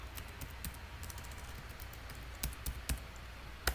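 Keys on a computer keyboard are typed in a short, uneven burst of soft clicks, a few louder taps near the end, close and quiet with no talking.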